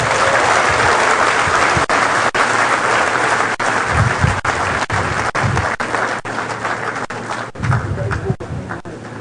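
Sustained audience applause at the close of a talk during the third day of an annual seminar, loud and continuous clapping from a large crowd with a few sharp claps standing out and faint voices underneath.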